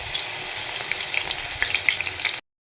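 Garlic paste fries in about 250 grams of mustard oil in a large wok, giving a steady crackling sizzle with small pops that stops abruptly, with no talk.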